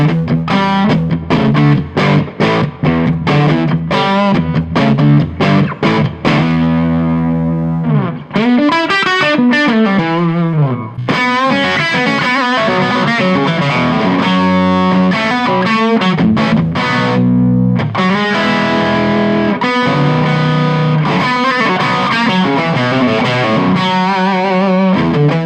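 Electric guitar played through a Victory Deputy compact head on its second voice into a 1x12 cab: distorted riffs, sustained chords and single-note runs with short pauses, loud and upfront with no talking.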